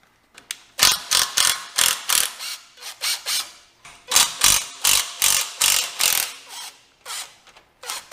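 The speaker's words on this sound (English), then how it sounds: "Next, I'm going to take off the V-band clamps." A ratchet wrench clicks in quick, bursting runs as exhaust V-band clamps are loosened during a driveshaft center bearing job, sharp and close, with short pauses between strokes and no talking.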